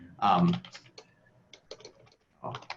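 Keys clatter on a computer keyboard as ad text is entered, quick bursts of close, crisp keystrokes separated by short pauses.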